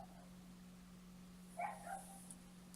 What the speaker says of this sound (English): noisy dogs outside.